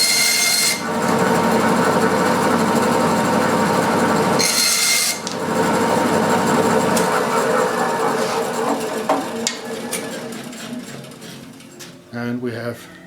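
A drill bores dowel holes through wood, a steady loud grinding whir that runs almost unbroken, briefly drops off midway, then tapers into scraping and clunks as the bit pushes through.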